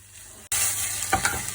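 Spinach and kale hit a hot pan and sizzle steadily as they wilt, a bright close frying hiss with a couple of soft stirring scrapes, starting abruptly after a brief quiet moment.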